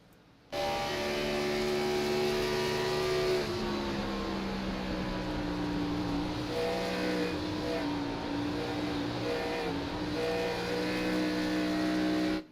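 Race car engine in a racing video game at Indianapolis Motor Speedway, held at steady high revs with a sustained harmonic drone and small pitch shifts, loud and continuous with no talk.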